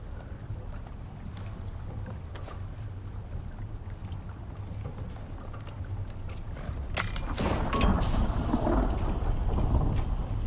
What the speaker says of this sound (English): And of course that storm arrives.